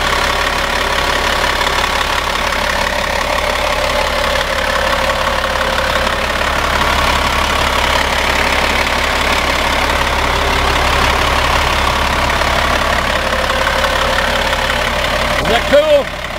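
A Caterpillar 455 engine idles steadily, a loud, close, even rumble with a faint knocking rhythm running the whole time, while a person talks over it.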